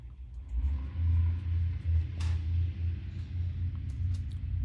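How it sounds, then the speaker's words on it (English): A loud car rumbles past outside, its deep engine note swelling and fading over a few seconds while heard from indoors. "Got a loud car out there."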